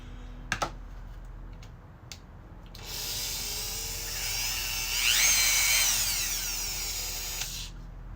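A Dremel rotary tool spins up after a few faint clicks and whines steadily for about five seconds. Its high, buzzing pitch shifts and sweeps as it loads and unloads, then cuts off.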